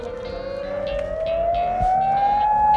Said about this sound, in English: Oh, no, that's the tornado siren.